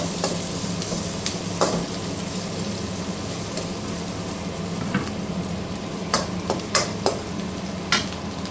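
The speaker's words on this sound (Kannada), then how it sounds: "ಅರಿಶಿನ ಹಾಕ್ಕೊಂಡು ಸ್ವಲ್ಪ ಫ್ರೈ ಆದ ನಂತರ" A pinch of turmeric powder fries in hot oil in a pan and is mixed in, making a constant near sizzle with sharp spoon scrapes and clicks against the pan toward the end, and no speech.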